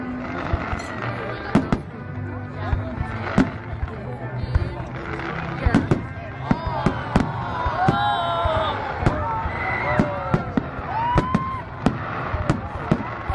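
Fireworks display at Blackheath in 2009, with repeated sharp bangs and crackling bursts going off at irregular intervals, some near and loud, over a murmuring outdoor crowd and occasional nearby chatter.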